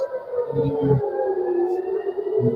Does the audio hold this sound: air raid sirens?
yes